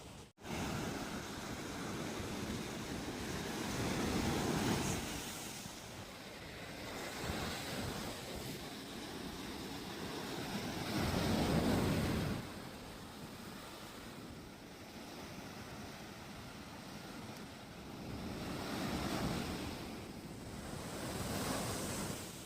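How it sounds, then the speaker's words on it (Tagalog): Strong surf at Patar Beach in Pangasinan rolls in and breaks in slow, rising and falling surges every few seconds. Steady wind buffets the microphone underneath, and no one speaks. "Malakas ang wave dito."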